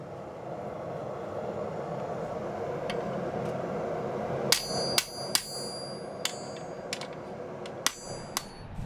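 Blacksmith working iron at a small wood-fired forge in a Svan mountain village in the Caucasus, fire fed by a blower with wood and shavings; a steady blower roar, then about eight sharp ringing hammer blows at uneven intervals, close and loud.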